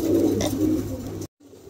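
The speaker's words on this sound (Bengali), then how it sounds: "মাশাআল্লাহ, দেখার মতন এক জোড়া কবুতর, ভালো লাগলে অবশ্যই সংগ্রহ করতে পারে।" Fancy pigeons, a pair of King pigeons, cooing close by in low throaty murmurs that cut off abruptly before faint background noise returns.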